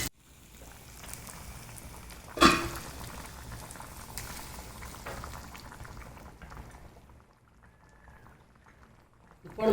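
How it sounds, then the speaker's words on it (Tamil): Hot tempering poured into a pot of boiling Thanjavur kathamba sambar: a steady bubbling simmer, a sharp sizzling splash as the oil hits the liquid, then a softer bubbling that fades toward the end. "இது அப்படியே குழம்புல கொட்டிடலாம்."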